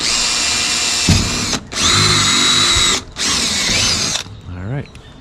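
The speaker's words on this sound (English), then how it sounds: "Let's go ahead and get those drilled." Power drill boring holes with a 3/8 step bit for a kayak anchor trolley install, loud, in three sustained high-pitched bursts separated by brief pauses, ending with the motor winding down.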